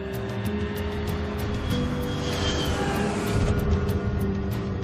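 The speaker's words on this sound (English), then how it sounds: "The plane is just moments from landing in Yaroslavl" A charter airplane on approach to land at Yaroslavl drones steadily and loudly with a constant engine roar throughout, and no voices.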